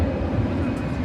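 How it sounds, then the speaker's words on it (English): A jet airliner taxiing under its own power at Dallas Fort Worth Airport gives a steady, rumbling engine roar, moderately loud and unbroken through the short moment. "the plane taxiing under its own power"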